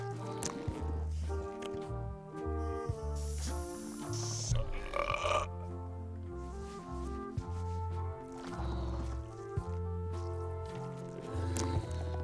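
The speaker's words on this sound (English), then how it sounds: "Hey, how about a burping contest?" A burping contest in the video game Return to Monkey Island, with long, drawn-out burps over steady game music that keeps running throughout.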